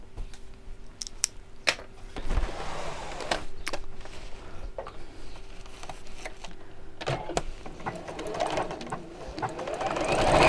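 A sewing machine stitches fabric in short bursts of rapid whirring, separated by sharp clicks and pauses, then a longer steady run building louder toward the end, close and without talk.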